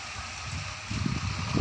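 Dry storm wind gusting across a durian orchard in Phayao, heard as a steady broadband roar that swells into a stronger, rumbling gust near the end, with no rain falling and no speech.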